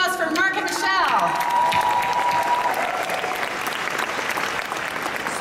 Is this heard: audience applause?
yes